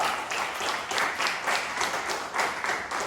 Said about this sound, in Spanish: quiero que nos demos un fuerte aplauso unos a otros